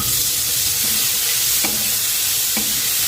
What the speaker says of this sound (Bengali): পেঁয়াজ আর টমেটো ভালোভাবে ভাজা হয়ে গেছে।